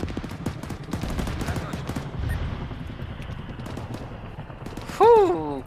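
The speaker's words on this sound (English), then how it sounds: "Alright, so BTRs are firing back at that Vic." BTR armored vehicles fire in the Arma 3 video game, a steady stream of rapid distant gunfire bursts running under a voice, ending with a sudden loud whooping tone.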